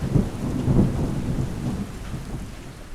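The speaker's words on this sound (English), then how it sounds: "it was just raining so hard" Heavy rain and thunder outside an office, a steady low rumbling wash with a couple of deeper rolls early on, loud and continuous throughout with no voices.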